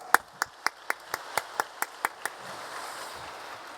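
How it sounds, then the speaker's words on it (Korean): A handful of crisp, evenly spaced hand claps, about ten in steady rhythm, welcome pastors to the stage at a church mission conference in Busan. The claps fade out, leaving a quiet room. "박수로 환영하겠습니다"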